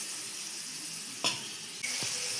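Onion and curry leaves sizzle in oil for a chicken curry, a faint, steady hiss running throughout, with two soft knocks from stirring or a utensil partway through and no talking.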